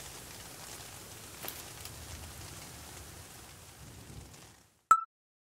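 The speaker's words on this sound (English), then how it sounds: "nu havler det." Hail falling steadily, a dense even patter heard close and alone, ending abruptly with a brief sharp tone.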